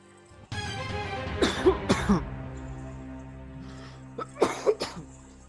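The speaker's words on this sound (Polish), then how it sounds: "O, publiczność nam kaszle" Audience members at a television quiz show coughing and clearing their throats, several sharp separate bursts spread across a quiet stretch with faint background hum.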